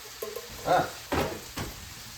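Ground chili meat is stirred and crushed in a sizzling pan, heard as three separate scraping, frying bursts over a low background crackle.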